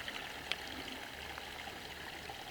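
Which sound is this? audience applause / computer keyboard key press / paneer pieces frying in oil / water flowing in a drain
water flowing in a drain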